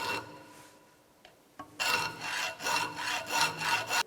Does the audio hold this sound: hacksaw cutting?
yes